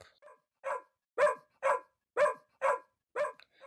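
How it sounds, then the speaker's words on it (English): Small black dog barking repeatedly at night, about seven sharp barks in a steady rhythm, close and moderately loud with no other sound. "The dog will not stop."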